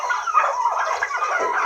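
Turkeys kept indoors on a farm call in a dense, continuous chorus of overlapping gobbling and warbling, loud and close, with no talking.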